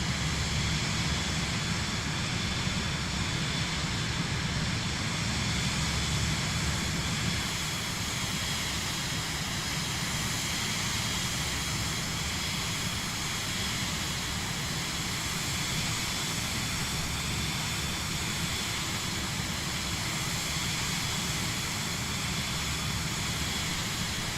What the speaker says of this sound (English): It's amazing the power of jet engines.